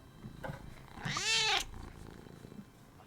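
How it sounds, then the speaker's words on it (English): A cat, heard close with a low rumbling purr, then a short, loud, rising-and-falling meow in the middle before the quiet purring resumes. "You can't cranky meow and purr at the same time."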